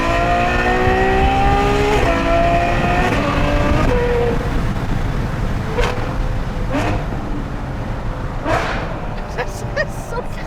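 Novitec F12 N-Largo, a tuned Ferrari F12 supercar, its engine revving to around 5000 rpm, loud from inside the cabin as a rising tonal howl with shift drops and sharp blips, with someone talking over it.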